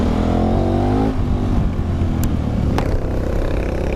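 KTM 1290 Super Adventure S 2019 motorcycle with an Akrapovic exhaust overtaking, a loud close engine roar rising in pitch for about a second, then easing into a lower rumble with wind noise and a couple of sharp clicks.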